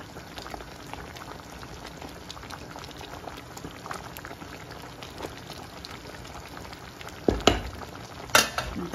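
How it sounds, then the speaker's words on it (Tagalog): Okra and meat simmer in a pot for bamia, a steady close bubbling and soft sizzle that runs throughout, with a couple of sharper knocks near the end. "habang niluluto natin yung okra at saka yung karne"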